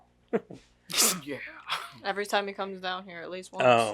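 A single sharp sneeze bursts out near the start, close and loud, and conversational speech follows.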